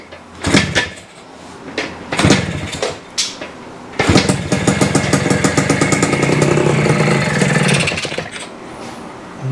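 A Kawasaki F7 Bushwacker motorcycle engine, choke on, gives a few clunks and sputtering tries, then catches at about four seconds and settles into a loud, steady idle.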